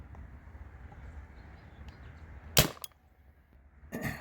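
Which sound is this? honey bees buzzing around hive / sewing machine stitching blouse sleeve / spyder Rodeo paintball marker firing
spyder Rodeo paintball marker firing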